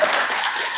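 Congregation in a church breaking into a short burst of applause during a homily at a Catholic Mass, a dense, steady patter of many hands without a pause.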